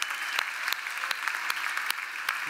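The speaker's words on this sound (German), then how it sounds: "Unser Applaus für Jan Frodeno." Triathlon awards audience claps for Jan Frodeno, a moderate, fairly sparse applause with distinct individual claps standing out against a soft background.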